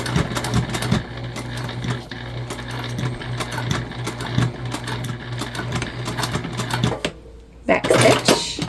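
Sewing machine stitching a fabric gift bag, with a back stitch: fast mechanical whirring bursts stop and start, close and fairly quiet, followed by a brief louder clatter near the end.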